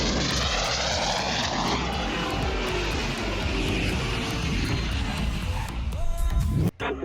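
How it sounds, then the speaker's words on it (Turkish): An airplane comes in to land with a loud, steady roar of engine and propeller filling the whole stretch, ending in a brief dip near the close. "İniş yap. Pist açık."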